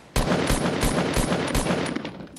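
Gunfire in the Fortnite video game comes as a rapid run of roughly seven sharp, evenly spaced shots. The burst is moderately loud and heard alone, with no talk over it.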